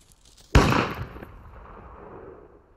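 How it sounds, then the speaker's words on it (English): A single sharp gunshot bursts out close and loud, then a long reverberant tail slowly fades, staged as a sound effect in a binaural audiobook scene of a man shooting a rat. "Mr. Daniels shot at the rat, killing it."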